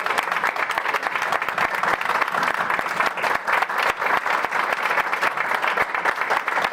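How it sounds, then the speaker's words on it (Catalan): A concert audience applauds at a Santa Cecilia concert, with loud, dense clapping that stays steady for several seconds, the individual claps sharp and close. "la fem un aplaudiment i aplaudim."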